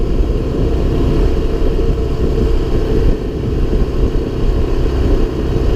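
A 1978 Honda XL175 motorcycle engine cruises in 5th gear at about 45 mph, a steady buzzy drone mixed with rushing wind noise throughout.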